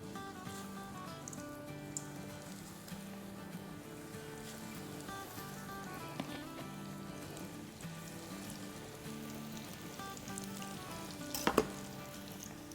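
Kandi samosas frying in moderately hot oil, making a soft, continuous bubbling sizzle like light rain, fairly quiet under background music, with one brief louder crackle near the end.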